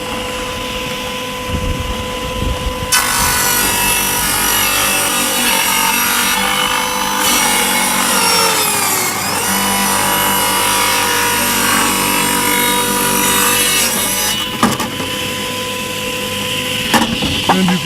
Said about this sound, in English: we're going to cut the cord